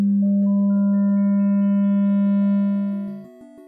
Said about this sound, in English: listen to the sine wave again, but this time with added waves of varying frequency.